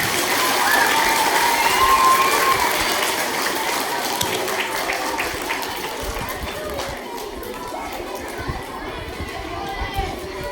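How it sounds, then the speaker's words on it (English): At a school ice bucket challenge event, an outdoor crowd gives a big clap, loud scattered applause mixed with children's voices and chatter, fading slowly over the stretch. "Could everyone give them a big clap?"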